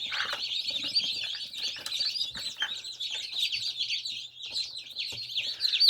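Freshly hatched, already dry chicks sit together peeping, a dense, continuous overlapping chorus of high, bright chirps close by with no talk.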